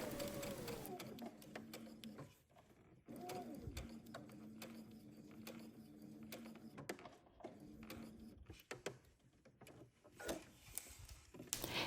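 A sewing machine sews a summer dress neckline around a curve, a low steady whir with short starts and stops and fabric handling noises, close by.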